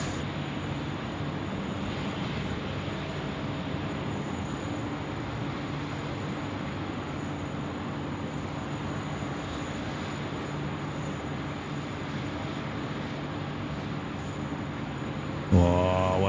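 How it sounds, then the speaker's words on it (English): A Boeing 717-200 airliner landing at Sydney Airport in wet weather, heard as a steady, distant engine roar that holds level for a long stretch, with a brief louder noise near the end. "Next to land is our QJet 1508 coming in from Canberra, the Boeing 717-200 series."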